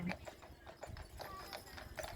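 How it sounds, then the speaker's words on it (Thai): Hooves of a horse pulling a carriage clip-clop steadily across a road in the old town of Richmond, with a brief whinny and people talking over the regular beat of the hoofbeats. "ข้ามถนนรถม้ามา"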